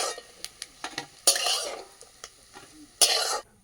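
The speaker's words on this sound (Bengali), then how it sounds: "মাছের ডিমটা কিন্তু একটু লাল লাল করে আমি ভেজে নেবো" Fish roe fries in a pan while a utensil scrapes and taps against it, loud bursts of sizzling hiss between quick metallic stirring clicks, close and alone.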